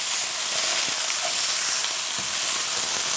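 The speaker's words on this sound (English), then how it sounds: "You really want to stir most of the time that they're cooking to ensure that they cook evenly throughout." Sliced fajita vegetables fry in a hot pan with a loud, continuous sizzle and hiss, while a stirring utensil scrapes and clatters softly through the crackle.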